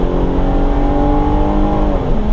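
Inside a 2021 Jeep Grand Cherokee L Summit Reserve in sport mode, the engine drones loud and steady as the SUV accelerates, with engine tones climbing smoothly under road noise and no talking.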